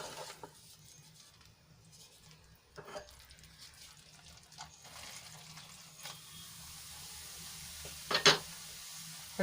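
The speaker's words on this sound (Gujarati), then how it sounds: "સરસ રીતે મિક્સ કરી લઈશું" Melted jaggery is stirred into a churma ladoo mixture, giving soft, intermittent scraping and mixing sounds close by, quiet overall, with a brief sharper clink near the end.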